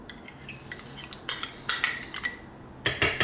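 A spoon stirs sour cream into crockpot loaded potato soup, giving sparse clinks and scrapes against the pot in irregular bursts, close and fairly quiet with pauses between strokes.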